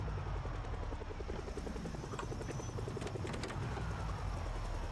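Helicopter rotor chop in the game Project Zomboid, a steady loud thudding drone passing overhead with some mechanical clatter and no talk.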